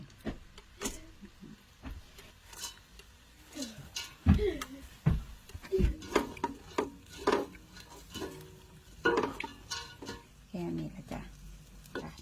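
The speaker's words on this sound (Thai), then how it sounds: "แล้วก็คน คนให้เข้ากันค่ะ" Bolete mushrooms stirred into a sweet three-flavour sauce in a pan, with irregular scraping, knocking and clattering of the utensil against the pan and faint sizzling, a voice occasionally speaking nearby.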